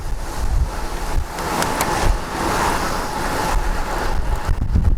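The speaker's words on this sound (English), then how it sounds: "Wind in your hair." Strong wind roars steadily across a microphone while riding a bicycle downwind along a road, a dense continuous rush with gusty swells and no voices.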